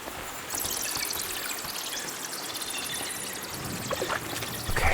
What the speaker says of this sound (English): trickle running through here. The water must have risen.